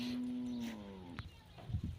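A single long, low cow moo on a river char at Nandalalpur, drawn out then fading, close by, followed by a few faint thumps and soft background noise.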